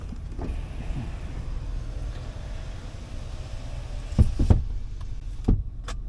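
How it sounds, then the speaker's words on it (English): Power windows on a 2015 Dodge Ram 1500 Longhorn Limited truck, heard as a steady low motor hum with a few short creaks and thumps near the end, close up, with no talking. "Power windows."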